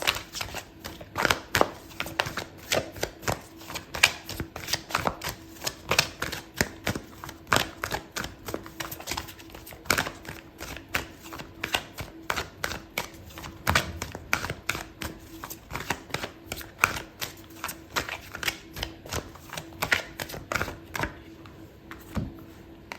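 Tarot cards being shuffled and handled close up, a long run of quick, sharp flicks and riffling snaps in uneven bursts, with no talking.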